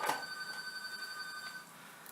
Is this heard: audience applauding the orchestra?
no